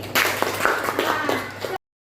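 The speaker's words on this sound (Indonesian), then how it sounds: "Tepuk tangan buat Selfie." A small group of classroom students claps for a classmate, a short burst of scattered, uneven hand claps lasting under two seconds before cutting off.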